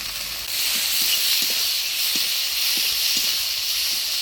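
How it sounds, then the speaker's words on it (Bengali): Fried shrimp go into hot oil spiced with turmeric and salt, raising a loud, steady, close sizzle that hisses without a break for several seconds, with faint clinks underneath. "এবার দিয়ে দেবো ভেজে রাখা চিংড়ি মাছটা।"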